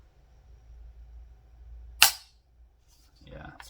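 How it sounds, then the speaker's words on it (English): A single sharp mechanical snap of a gritty, dirty unloaded pistol trigger breaking cuts through low background hum, followed by faint rustling handling noise. "See if you can hear the trigger."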